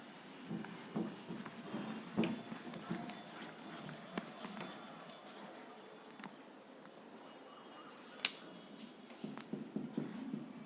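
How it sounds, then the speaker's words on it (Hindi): Marker or chalk scratching across a board during a lecture, a faint, fitful run of short strokes with small pauses, quiet and close with no talking over it. "ऊपर लिखता हूँ"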